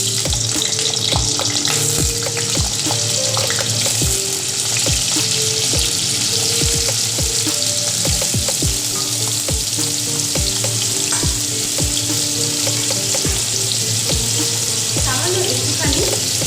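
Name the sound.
diced potatoes frying in hot oil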